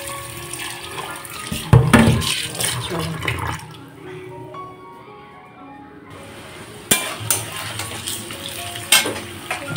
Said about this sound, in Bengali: জলটা চালিয়ে দিই, নাহলে পাইপটা আবার গলে যাবে জানো